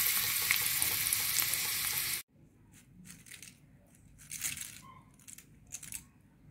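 Peanut noodles for a festive snack fry in oil with a loud, dense hiss for about two seconds, then cut abruptly to quieter scattered crackles and bursts.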